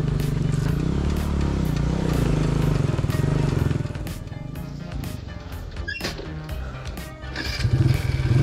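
A motorcycle stuck on a rough track to a camping site in Kakkabe, its engine droning steadily and loudly up close, then revving unevenly with crackles and scrapes as it struggles.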